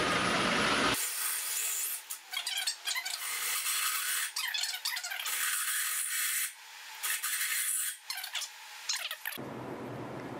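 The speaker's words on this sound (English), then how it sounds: "now that we have a pilot hole, it's a lot easier to get in there" A drill bores into metal through a pilot hole lubricated with WD-40 in a garage, giving a continuous close, harsh grinding and rubbing that pauses briefly several times, with no talking.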